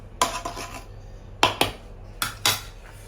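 A spoon clinks and scrapes against a pot in several sharp bursts as cashews and fried onions are added to Thalassery dum biryani, close and clear with no talk.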